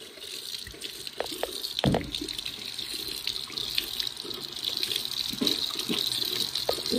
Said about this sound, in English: you spit it out in the sink and wash your toothbrush off with water